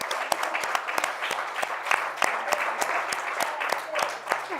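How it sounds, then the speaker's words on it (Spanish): An audience in a library lecture hall gives a woman steady applause, with individual claps spiking through a dense, even patter for several seconds and a faint voice underneath. "Yo creo que esta señora merece un aplauso."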